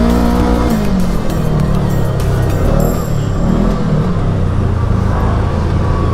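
A Kawasaki Teryx KRX 1000 side-by-side drives hard around a monster truck track, its engine roaring loud and continuous with shifting pitch through a turn, wind and tire noise layered on top.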